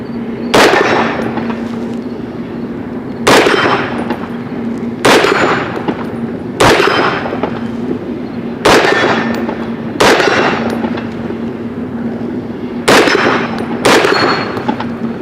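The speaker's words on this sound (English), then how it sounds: "Beating the hell out of that steel." Rounds from an AR-10 .308 rifle strike a steel target in a steady series of about nine sharp metallic hits spaced a second or two apart, each loud crack followed by a ringing clang, with no talk.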